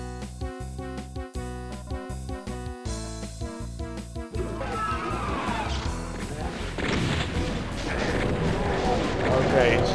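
The chaingun in Ultimate Doom fires in fast repeated bursts, loud and close. Heavy crashes and explosions pile up over game music, and a chaotic roar grows toward the end.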